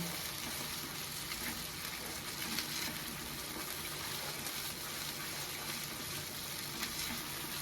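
Palak paneer masala frying on a high gas flame makes a continuous, even sizzling hiss, fairly soft and close, without distinct stirring strokes or voices.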